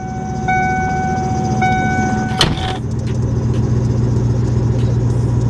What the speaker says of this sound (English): And the belt's squeaking. And it's getting louder.